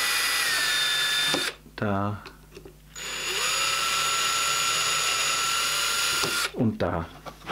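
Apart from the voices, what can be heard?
drilling thin holes through an MDF strip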